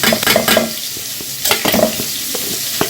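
Cashews, raisins, melon seeds and poppy seeds sizzle in a hot pan for a vegetarian navratan korma, a close, steady crackle broken by quick scraping strokes of a stirring spoon, with no voices.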